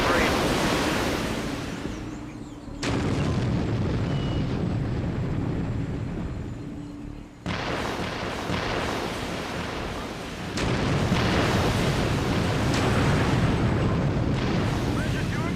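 Heavy, sustained explosion rumble from bombs going off in the video game HAZE, loud broadband roaring that cuts abruptly between sections and continues throughout, with no talking.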